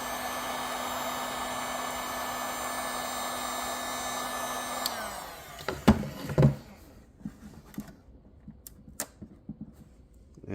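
Heat gun blowing a steady hiss of hot air onto glue on an Edison Music Master phonograph horn, running alone for about five seconds before cutting off, followed by scattered scraping and prying clicks.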